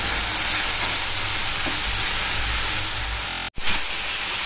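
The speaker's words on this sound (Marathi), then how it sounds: "चवीनुसार मीठ टाकून घेऊया, मिक्स करूया।" Cluster beans cooking with salt in a pan, stirred amid a steady close hiss of frying and sizzling that carries on throughout, with one brief break near the end.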